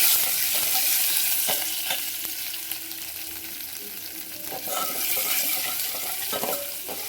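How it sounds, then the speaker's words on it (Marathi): Garlic, ginger and two red chillies roast in a hot pan for a vada sambar masala, a continuous close sizzle broken by repeated scraping and stirring strokes throughout. "याच्यामध्ये आपल्याला घालायचं लसूण, आलं आणि 2 लाल मिरच्या. चांगलं आपल्याला बघा भाजून घ्यायचं आहे."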